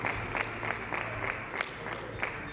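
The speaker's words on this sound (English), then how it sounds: "A big applause." A crowd applauding at the final of a padel tournament in Beausoleil, steady clapping from an audience somewhat distant, a continuous wash with slight swells and a faint low hum underneath.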